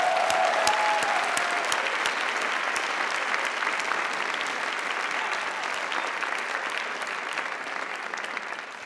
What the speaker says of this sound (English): join me in a round of applause to thank and celebrate your family and friends